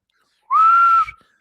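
A single sustained human whistle holds one steady, slightly rising tone for about half a second, clear and close, with no talk over it.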